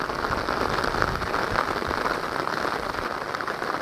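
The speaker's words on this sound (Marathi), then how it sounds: "पाऊस सकाळपासूनच लागता" Heavy monsoon rain in the Konkan pours steadily onto surfaces, a dense, even hiss of drops at moderate level throughout, with no voices.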